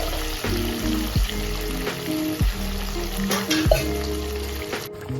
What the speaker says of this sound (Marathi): त्यानंतर हे वांगे आपण तेलामध्ये सोडून घ्यायचं आणि जो उरलेला आपला मसाला आहे तो आपण कढईमध्ये टाकून घेणार आहोत